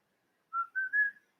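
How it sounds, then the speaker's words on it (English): A person whistles three short rising notes close into the microphone, loud and clear against near silence, with no talking. "I probably whistled into the mic too loud."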